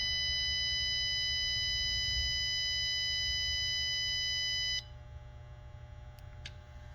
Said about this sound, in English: Double tap, and now press and hold it until the beeping stops.